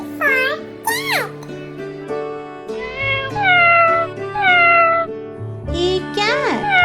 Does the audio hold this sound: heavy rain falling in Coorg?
no